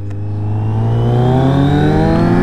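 A Kawasaki Z900 motorcycle engine revs up close, its pitch climbing steadily in a smooth, loud, accelerating drone on a mountain road trip through Zanskar.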